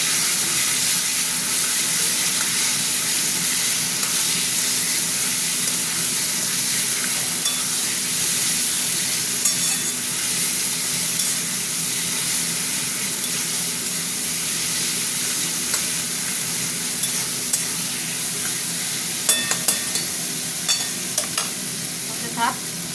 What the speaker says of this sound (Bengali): আলুটা ভাজা ভাজা হতে থাক